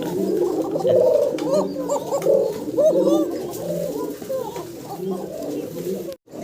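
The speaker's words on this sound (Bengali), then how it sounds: "সবুজ গলা গ্রিবাস কবুতর দর্শক আপনারা দেখতে পারতেছেন" A flock of green-necked Gribas pigeons coos steadily, overlapping throaty calls rolling on for several seconds, fairly close and continuous.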